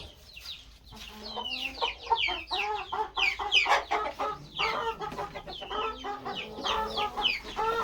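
Black fighter chickens clucking on a poultry farm, a dense run of overlapping clucks and short calls from several birds close by, steady and busy throughout with no speech.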